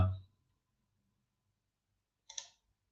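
A single soft computer mouse click lands near the end after a brief bump at the start, faint and isolated in an otherwise quiet room.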